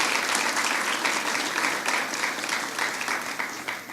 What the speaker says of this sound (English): Could we give them both a round of applause?